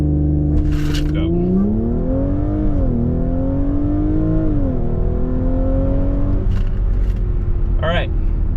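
A 034 Stage 1 tuned Audi B9.5 S4 launches and accelerates hard, its engine note climbing loudly through several gear changes. A voice talks briefly over it.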